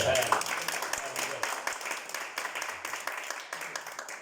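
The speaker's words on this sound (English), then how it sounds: "Big round of applause." Applause from a small audience at a business meeting, a steady patter of clapping hands lasting several seconds, moderately close, with a brief voice at the start.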